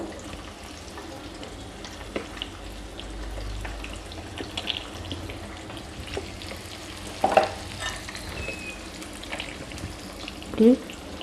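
Pieces of seer fish (vanjaram) are dropped into a gently bubbling curry in a clay pot, with a low simmer throughout and a couple of soft plops and splashes near the end.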